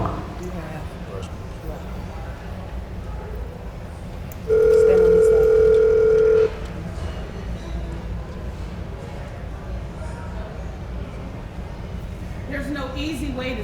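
Telephone sounding a steady two-tone electronic beep for about two seconds, loud and clear over a room-tone background, with a voice nearby.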